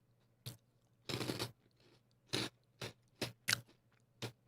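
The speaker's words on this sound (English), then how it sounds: "It has an okay soft crunch. Like a 7 out of 10 crunch." Someone crunches on a hollow, sweet and salty corn snack. Several separate crisp bites and chews come close to the ear, some short and some longer, with quiet gaps between them and no talking.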